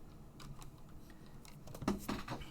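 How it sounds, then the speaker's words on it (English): Several piles of trading cards are shuffled by hand again, a close burst of crisp, rapid card flicks and taps that grows busier toward the end. "Shuffle them again for good measure."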